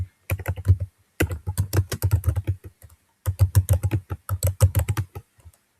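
Rapid bursts of key presses on a computer keyboard as a password is entered, close and clear, in several runs separated by short pauses, with no talking.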